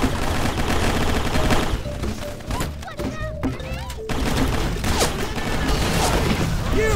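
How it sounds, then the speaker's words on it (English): Gunfire in the video game Microvolts: rapid shots and bursts crackle almost continuously, loud and busy, with a brief lull midway before the shooting resumes. "Whoa, who's shooting at me?"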